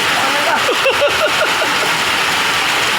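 Heavy rain pours down in a dense, constant wash, with a voice speaking over it briefly.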